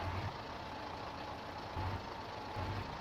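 A truck's engine idles and rumbles steadily in Farming Simulator 19 as it is driven up onto a trailer, with a low drone holding throughout and brief heavier swells of engine load, no talking.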